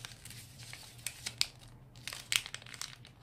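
Origami paper folded and unfolded by hand for a lucky pheasant and egg model, making quiet crinkles and papery rustles in short irregular bursts, close up.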